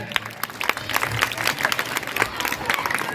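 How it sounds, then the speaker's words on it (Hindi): A school audience claps for the principal after a motivational speech, giving dense, steady applause that lasts the whole stretch with no voices over it. "एक बार प्रधानाचार्य सर के लिए एक बार 2 तालियां हो जाए।"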